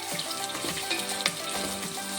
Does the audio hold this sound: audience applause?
no